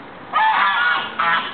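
A goose being fed chips beside ducks gives two loud, close honks, the first drawn out and the second shorter, with no talking.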